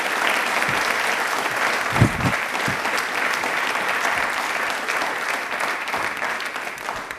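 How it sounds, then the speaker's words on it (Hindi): Sustained applause from a large crowd, a dense, even wash of clapping that holds steady for several seconds. "प्लीज एक बार तालियां जोरदार होनी चाहिए।"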